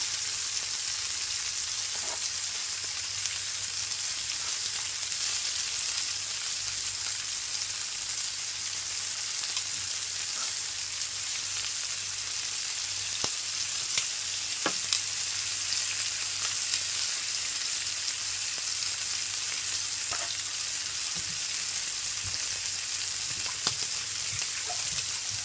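Shrimp for fried rice sizzle and crackle steadily in a hot pan, a dense continuous frying hiss with occasional sharper pops and stirring sounds, close and fairly loud.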